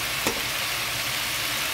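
Squid pieces stir-fried in a hot pan with sesame oil and sesame seeds, a steady loud hiss and crackle of frying with a sharp scrape of the spatula near the start.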